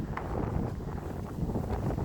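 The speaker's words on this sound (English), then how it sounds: "It's very windy" Steady wind buffets the microphone outdoors, a continuous low rumbling roar with no one speaking.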